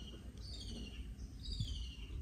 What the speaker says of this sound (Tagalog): Kanina pa yung ibon na yun.